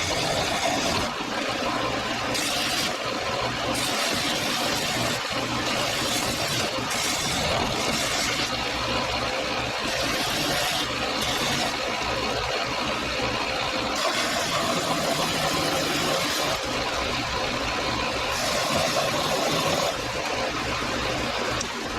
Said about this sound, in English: I'm gonna do it right on the belt sander.